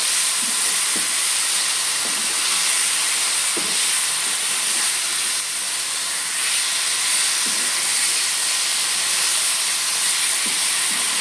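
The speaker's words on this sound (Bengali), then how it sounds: "এবার যে পেস্টটা ছিল টমেটো, আদা আর কাঁচা লঙ্কা সেটা মিশিয়ে দিলাম। এবার আমি ভালো করে এটাকে কষবো।" A paste of tomato, ginger and green chilli sizzles in a hot pan with a constant, bright hiss, broken now and then by faint clinks of stirring.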